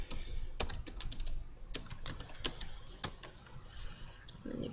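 Someone types on a computer keyboard, with a quick run of irregular clicking keystrokes, close and fairly crisp, without talking.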